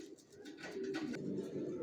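Racer pigeons coo close by, a soft, low, rolling call that repeats and stands alone against a quiet background.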